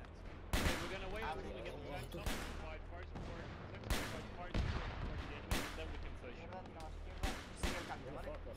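Rapid gunfire from the military video game Arma 3, with repeated sharp shots and bursts spread across the clip, some loud and close and others fainter, over a steady low rumble with muffled voices in the background.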